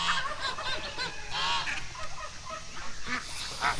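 Geese honk and hiss repeatedly in a loose, overlapping chorus, fairly close, at a farm. The calls come in irregular bursts over a steady background bustle.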